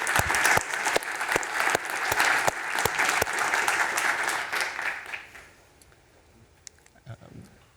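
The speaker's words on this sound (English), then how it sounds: "let's give another round of applause to the MIT folks for hosting us" Conference audience in MIT's Stata Center gives a round of applause, steady dense clapping for about five seconds before it fades to a quiet room with a few faint sounds.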